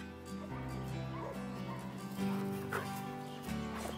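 A service detection dog at a border checkpoint gives short yips and whimpering whines, faint and intermittent over a steady humming background.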